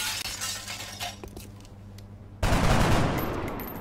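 Gunfire in the XCOM: Enemy Within video game, with a sudden loud burst of shots and shattering impact that starts partway through and stays dense and noisy over the game's background hum.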